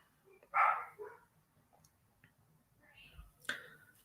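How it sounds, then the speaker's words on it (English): A dog barks a few times at a distance, short faint yaps separated by quiet pauses. "the dog is barking."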